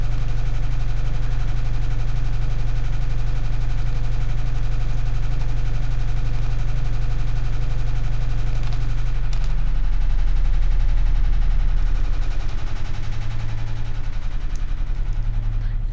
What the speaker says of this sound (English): If you hear that noise in the background, that's my washing machine going.